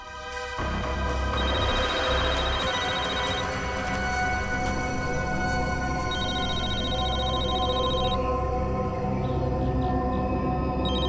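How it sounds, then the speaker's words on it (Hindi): A mobile phone rings continuously over a steady, dense background, a repeating electronic tone pattern in short bursts, with no talk. "सर फोन रिंग हो रहा है।"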